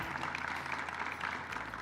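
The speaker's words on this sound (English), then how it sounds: "Give them a round of applause." Audience applause for the Rialto High School band at a hall of fame ceremony, a steady wash of clapping from many hands, moderately loud and continuous.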